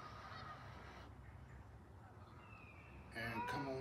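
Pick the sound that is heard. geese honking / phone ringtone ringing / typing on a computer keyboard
geese honking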